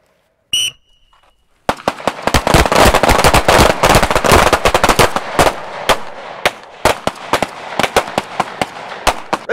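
A handgun fires a rapid string of shots while the shooter moves to the left, loud sharp cracks in quick succession that become sparser toward the end, preceded by a brief electronic start beep.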